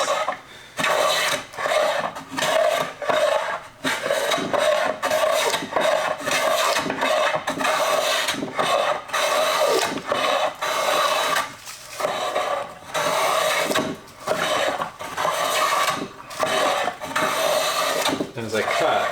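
A hand plane cuts across a wooden board in repeated strokes, each a rasping, shearing swish separated by brief pauses, close and fairly loud, with no talking.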